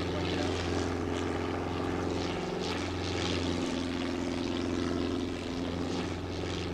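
A helicopter flies in a video game, its steady loud engine and rotor drone holding on alone without a break.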